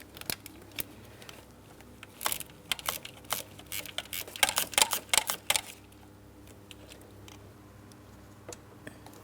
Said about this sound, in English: We have a 13mm mounting nut. Let's go ahead and remove that nut first. Use my ratcheting wrench.